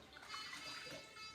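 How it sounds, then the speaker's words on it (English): Lamb chops are dipped into water, giving a soft, faint, continuous trickle and slosh of liquid close by, with no voices. "I like to do another dip in the water"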